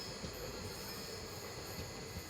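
Aurangabad Guntur Express train running along the rails, a steady loud rumble of wheels and carriages filling the whole stretch without a break.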